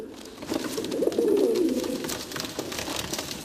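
Pigeons coo in a soft, throaty rolling call that swells in the middle and fades, close by and alone over a faint background hum.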